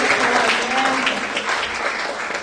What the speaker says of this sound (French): Je pense qu'elles vont applaudir.